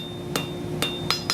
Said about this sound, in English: We're going to go ahead and keep hammering on this.